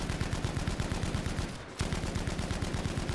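Tommy gun machine gun fire in Battlefield V, rapid evenly spaced shots in a continuous stream with a brief pause midway before firing resumes.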